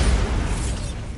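Bombarda spell explosion in the video game Hogwarts Legacy: a loud, dense blast with a deep boom that holds steady, then thins slightly as it rolls out over about a second.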